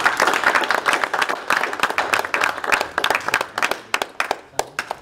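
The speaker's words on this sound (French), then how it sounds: "je voudrais qu'on puisse juste les féliciter avec vos applaudissements" Audience clapping at a formal presentation of a Congolese political movement in France, starting as dense applause and thinning into scattered, separate claps by the end.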